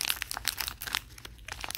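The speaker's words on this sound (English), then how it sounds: "I don't know if I can open these one-handed, so I have my mini scissors." Close, quiet crinkling and rustling as small scissors open the plastic packaging of figural key chains, in quick bursts with small snips mixed in.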